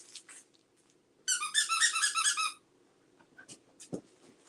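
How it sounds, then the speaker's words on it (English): A squeaky toy is squeezed in a rapid, steady series of shrill, close squeaks lasting just over a second, set apart by quiet breathing and small movement sounds before and after. "Whenever I come across a squeaky toy, I'm like, it has to pass the squeak test."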